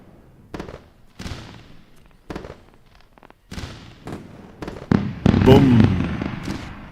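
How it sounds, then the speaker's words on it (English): Fireworks pop and bang in a series of sharp bursts, spaced irregularly and growing louder and denser near the end, with a crackling rush in the final seconds. "This is certainly deserving fireworks."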